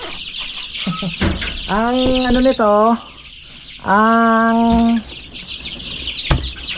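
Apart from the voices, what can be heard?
chickens clucking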